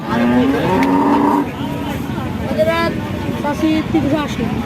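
Indian buffalo moo at a busy cattle market in Pabna, Bangladesh: several long, low, loud calls close by, over a steady crowd hubbub with people talking throughout.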